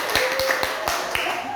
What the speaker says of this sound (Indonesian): tepuk tangan dulu buat bludak